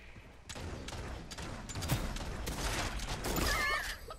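Gunfire rattles through a Realm Royale match in dense, overlapping bursts and thuds, loud and continuous amid game effects.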